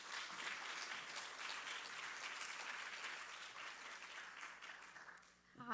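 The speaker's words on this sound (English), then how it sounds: "So please give a round of applause to both of these incredible women." Audience applause at the 2023 Last Girl award ceremony: a steady, dense wash of many hands clapping that holds for several seconds before thinning out at the end.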